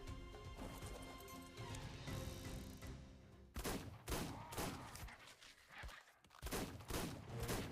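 Gunshots in the mobile game ARK: Ultimate Mobile, a run of sharp loud bangs in irregular rhythm after a stretch of busy ambient game sound, close and punchy.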